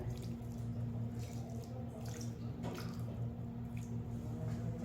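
Water is poured into a shami kebab mixture, giving soft splashing and wet squishing over a steady low kitchen hum, close and fairly quiet.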